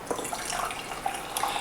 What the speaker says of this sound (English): So I'm just gonna go ahead and pour it into my cup.